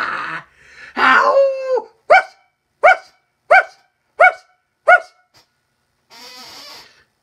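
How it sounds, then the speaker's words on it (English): A dog barking indoors at close range: a drawn-out whining yelp, then a quick run of five sharp, evenly spaced barks, followed by a soft breathy huff, with no talk over it. "Come on, bark for me!"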